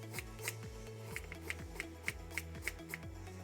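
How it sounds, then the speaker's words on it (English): A knife chopping and mincing garlic on a cutting board, a steady rhythm of light close taps about three per second, quiet and alone with no talking. "We're going to chop it up, mince it up nice and small."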